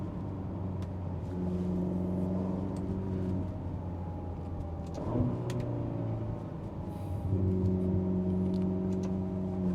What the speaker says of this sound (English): the sound of that V8 engine is really, really great